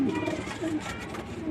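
Homing pigeons cooing in a loft, repeated low rolling coos close by amid busy background noise, with someone talking underneath.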